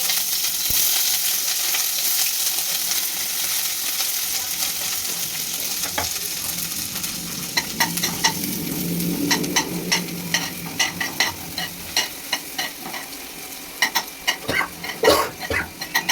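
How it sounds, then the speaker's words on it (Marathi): Onion frying in about three spoonfuls of hot oil, a continuous close sizzle joined later by rhythmic stirring clinks and scrapes against the pan. "तेल गरम झाल्यानंतर यामध्ये थोडासा कांदा परतून घ्यायचा आहे आपल्याला।"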